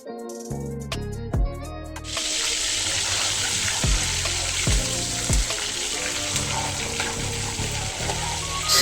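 Boiled eggs drop into hot oil and start frying, a few soft knocks and then a loud, dense crackling sizzle that keeps going, close up, with occasional thumps of the pan.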